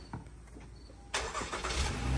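Honda Pilot engine starting, a quiet interior ambience abruptly giving way to a louder whirring crank and catch, then a steady idle rumble close by with no talk.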